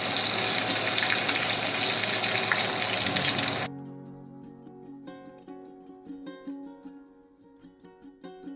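Breaded oysters frying in hot oil give a loud, dense sizzle for the first few seconds, then it cuts off abruptly into quieter, faint sizzling with occasional light crackles.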